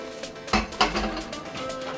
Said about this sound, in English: we're going to blanch it in some boiling water, like this